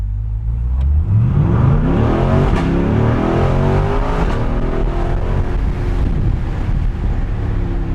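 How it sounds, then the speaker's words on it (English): A C8 Corvette with an AWE exhaust roars up through the revs from a standstill with the windows down, the exhaust note rising steadily and loud with wind rushing past. "let's do another little pull in this car from a dead stop and hear that AWE exhaust"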